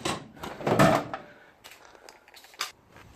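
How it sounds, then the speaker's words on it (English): Drawers in a garage workshop being shut, a cluster of knocking, sliding thumps in the first second and a half followed by a few sparser, quieter clunks, heard close with no talking. "Find them, close some drawers,"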